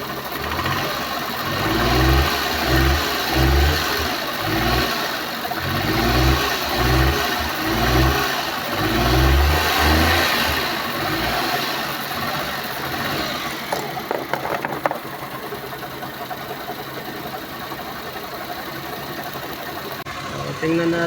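A Suzuki DA64 van engine, suffering misfire and low power, revs up in repeated rhythmic surges close by, then drops back to a rougher, quieter idle for the remainder.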